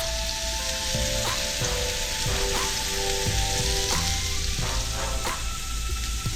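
A giant bacon burger patty sizzles steadily in a pan, a dense, constant frying hiss running throughout with occasional clinks and scrapes from utensils over the top.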